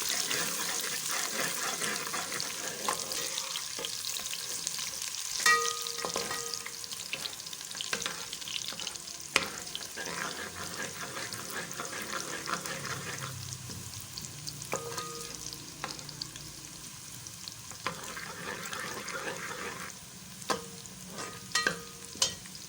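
Onions sizzle in a hot pan with a steady crackling hiss, broken by occasional scrapes and clinks of stirring.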